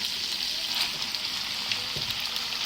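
Miki Bihon noodles being mixed in a frying pan: a steady hiss of sizzling oil with faint stirring scrapes underneath, close and continuous.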